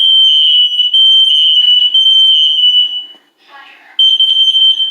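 A combined smoke and carbon monoxide alarm sounding during a test, a piercing shrill beeping in steady pulses up close, with a short break near the end before it resumes.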